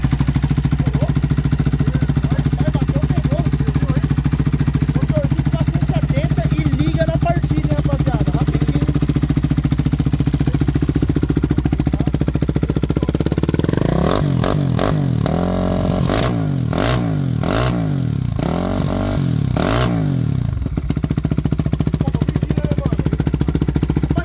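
A single-cylinder Yamaha XT660 motorcycle engine with throttle-body fuel injection idles steadily and loudly throughout, with a few sharp throttle blips and clattering revs toward the end.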